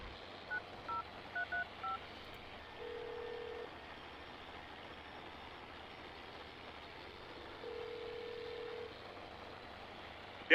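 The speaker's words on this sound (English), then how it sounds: "Give Mark a call, and I'll see if he's back." Phone keypad tones dial a call in Farming Simulator 19: a quick string of short beeps, then two long flat ringback tones separated by quiet, all faint over a low steady engine hum.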